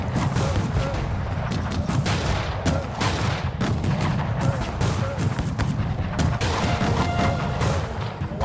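Massed musket volleys from musketeers in the strategy game Cossacks 3: a dense, continuous crackle of overlapping shots with no clear gaps, layered with battle noise and steady in loudness throughout.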